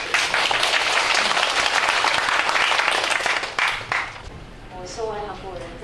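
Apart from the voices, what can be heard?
audience applause welcoming a speaker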